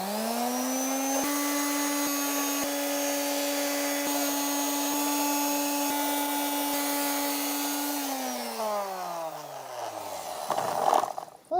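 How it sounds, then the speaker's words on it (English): An electric hand sander whines steadily and loud on a carved wooden bear, a sustained motor tone with faint periodic ticks, then winds down and stops near the end. "So I'm going to do it with my little hand sander thing here."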